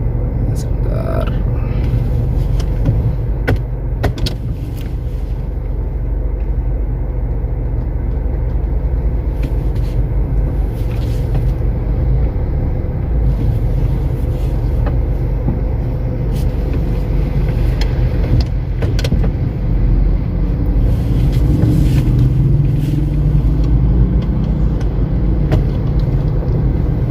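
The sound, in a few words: 2008 Honda CR-V automatic moving off in drive without throttle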